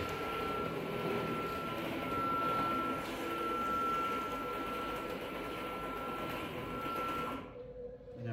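A CNC cutting machine drives its cutter back to the zero starting position with a steady whirring motor drone and a thin whine, close and continuous, before cutting off abruptly near the end.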